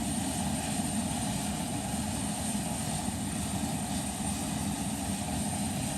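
A Convair CV580 turboprop engine runs in the cockpit at a steady, loud, broadband drone that holds unchanged throughout, with no speech.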